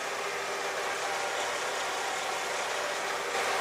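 A hot car engine idles steadily at operating temperature, a constant broadband hum with no talk over it, held at an even level throughout.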